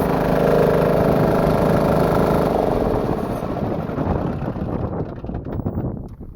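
A homemade air compressor driven by a diesel engine runs with a loud steady chugging hum up close, then the sound fades and loosens as the engine winds down near the end.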